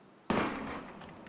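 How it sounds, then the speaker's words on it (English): A single sharp gunshot blast from the Valkyria Chronicles video game, loud and close, with a long noisy decay trailing off over about a second. "Gunfire!"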